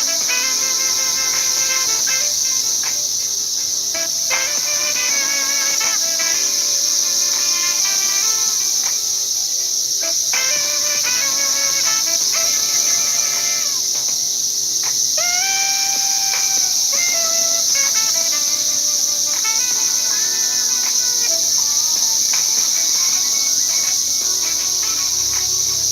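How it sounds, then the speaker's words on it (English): Locusts buzz outdoors in a steady, loud, high hiss that lasts throughout, with faint birdsong and background sounds underneath. "Sorry again for a little locust sound."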